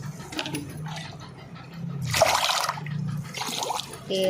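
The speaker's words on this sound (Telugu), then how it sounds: "బియ్యంలో కూడా అలాగే నీళ్ళు పోసుకొని నానబెట్టుకోవాలి" Water splashes and trickles in bursts into a container of soaking rice, with handling noises between pours, close by and moderately loud.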